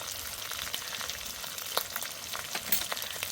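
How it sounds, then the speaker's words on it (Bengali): Spices sizzle in oil in a pan for a vegetarian potato and eggplant curry, a steady fine crackle with a few sharper pops, close and fairly quiet with no voices. "কাঁচা লঙ্কা বাটা, ভালো করে কষে নেব।"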